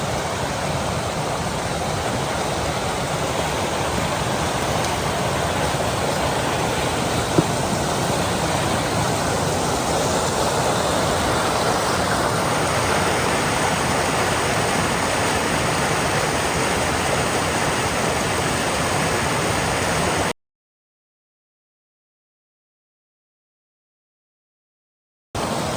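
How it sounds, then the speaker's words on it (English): A small creek near an abandoned railway tunnel rushes in a steady, close, fairly loud wash of water, continuous for about twenty seconds before cutting to silence, then briefly resuming at the very end. "This little creek is absolutely beautiful"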